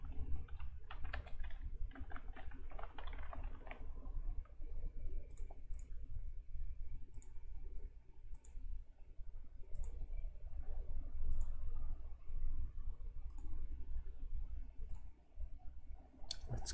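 A computer mouse clicks while navigating Dell EMC PowerMax Unisphere storage software. A quick cluster of clicks comes first, then single crisp clicks at spaced intervals over a low, quiet room hum.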